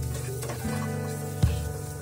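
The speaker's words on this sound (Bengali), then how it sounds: "একটু লবণ দিলাম। মরিচ ভাজা হয়ে গেল।" Onion and green chillies fry with salt in a pan, giving a soft, close sizzle with a light scrape or stir near the middle.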